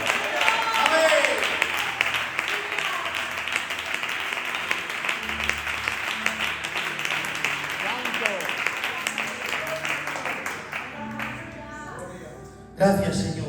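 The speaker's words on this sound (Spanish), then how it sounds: "Los hijos de Dios le dan un aplauso al Señor." A church congregation claps in sustained, dense applause that holds for around ten seconds before tapering off, with voices rising through it.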